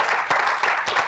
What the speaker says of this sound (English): Good round of applause to Tim for his time.